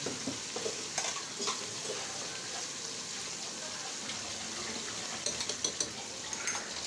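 Garlic paste and spices frying in a pan, a soft continuous sizzle with scattered scraping stir strokes, fairly quiet and close, no voices over it.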